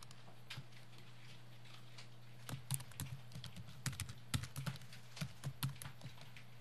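Someone types on a computer keyboard, producing quiet, irregular bursts of crisp key clicks that grow denser and a little louder toward the end, with no voices.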